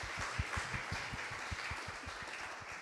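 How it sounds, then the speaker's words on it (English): Steady applause from a meeting audience thanking outgoing neighborhood steering committee members, rapid claps at a moderate distance with no talking. "I'm going to clap for them"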